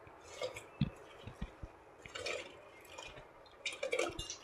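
Water boils in a pot on the stove for sakkarai pongal, soft irregular bubbling pops and gurgles close by and quiet, with no talk.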